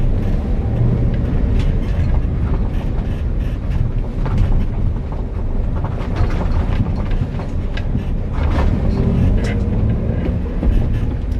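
Manual car accelerating gently on a rough road after a speed bump, a steady low engine and road rumble that holds at an even level throughout, with faint rattles over the top.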